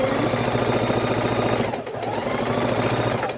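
A sewing machine stitching quilt fabric runs continuously with a rapid mechanical stitching rhythm, close and steady, briefly dipping before resuming.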